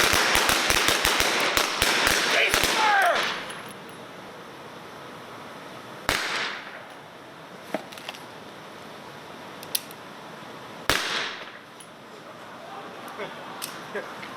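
Gunfire on a film set: a rapid string of sharp blank rounds in the first few seconds, followed by a few isolated loud cracks against a quieter background.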